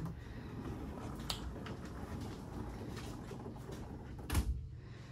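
Barnwood sliding bathroom door in a 2020 Jayco Precept 34G RV rolls along its track, a brief scrape followed by a soft thud near the end over steady low background rumble.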